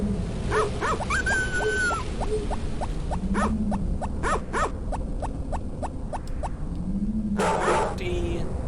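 Dog yips and whimpers from the Harvest Moon: Friends of Mineral Town video game, repeated short calls in quick series over game music and effects, with a person talking through much of it.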